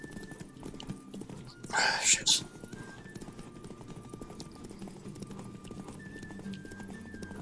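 A horse gallops in a race in The Witcher 3 video game, with a steady drumming of hooves and a sharp whinny midway, mixed under game music while someone talks over it.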